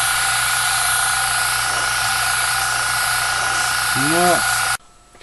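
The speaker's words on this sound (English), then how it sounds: "this is just a simple matter of shooting some paint onto here" An airbrush sprays Tamiya paint onto model ground cover with a steady, close hiss and compressor hum, under a brief rising tone, before cutting off abruptly near the end.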